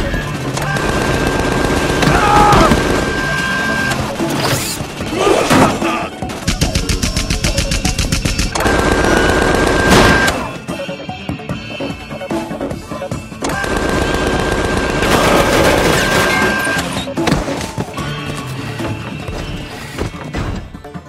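A robot in the game Tales from the Borderlands fires in loud, rapid bursts of automatic gunfire separated by short breaks, with crashing impacts and sci-fi effects layered over a constant game soundtrack.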